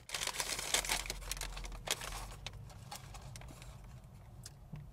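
A McDonald's paper takeout bag is opened and rummaged through, giving dense, close crinkling and rustling bursts that are loudest early and thin out into sparser crackles toward the end, with no talk.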